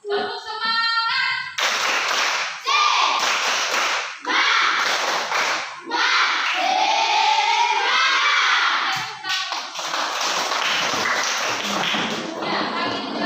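A class of students does a rhythmic spirit clap again, repeated loud bursts of group hand claps in a set pattern, with children's voices shouting and chanting between the claps.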